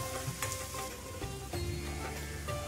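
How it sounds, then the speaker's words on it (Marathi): Onion frying with whole spices in oil in a pan for hotel-style kaju curry, a low steady sizzle with occasional stirring scrapes, quiet and close. "खडे मसाले, कांदा टाकून घेणार आहे। कांदा आपल्याला थोडासा ब्राऊन रंगावरती परतून घ्यायचा आहे।"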